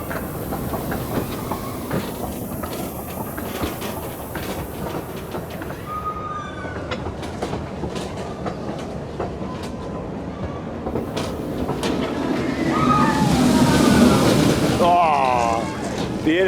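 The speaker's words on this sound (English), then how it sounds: "Are we going to get good time in with the train coming past?" The Icon roller coaster train passes at Blackpool Pleasure Beach, a rumbling rush with rattling clatter that builds louder toward the end, with a person talking over it.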